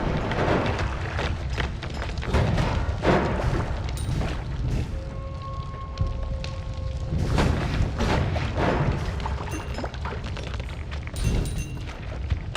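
Friend Rock in the game Noita exploding amid a busy run of repeated booming blasts and crashes, with brief tonal chimes mixed in, loud and dense throughout without any talking.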